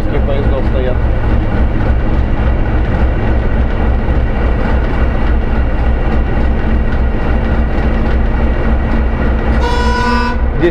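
ChME3 diesel shunting locomotive heard from inside the cab in a station yard: a steady, loud engine drone throughout, ending in a short horn toot.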